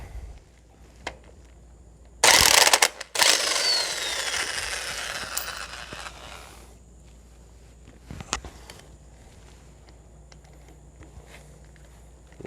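Wrench work loosening bolts on an antique Ford 2000 tractor, heard as a loud burst of metallic clanking and scraping for a few seconds, then a lone sharp clank later amid quiet outdoor ambience.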